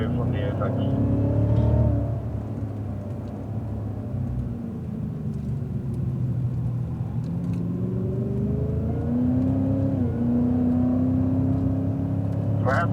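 A Cadillac CTS-V accelerates out of a corner on a race track, its engine note rising in a steady climbing drone as it pulls away, heard from inside the car with someone talking over it.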